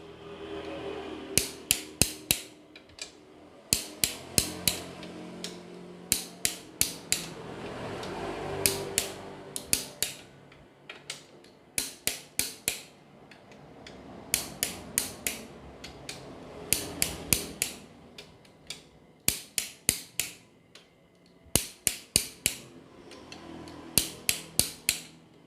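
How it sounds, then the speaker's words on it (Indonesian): Bolts on a Kijang 2L diesel engine are tightened with a ratchet, heard as repeated bursts of quick clicking in groups with short pauses between them, close and crisp over quiet workshop background. "tidak ada baut yang terlupa kita kencangkan"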